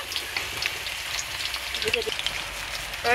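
Chicken pakora pieces of meat deep-frying in oil over low heat in a village home kitchen, a steady dense crackling sizzle with scattered pops and bubbling, close and continuous throughout.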